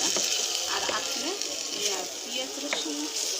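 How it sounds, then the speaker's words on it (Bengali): Ground nuts, yogurt and spice paste for chicken rezala sauté in a pan with a constant close sizzle and occasional stirring scrapes, while a faint voice murmurs in the background. "এখন আমি এখানে একটু কষিয়ে নিচ্ছি একটু"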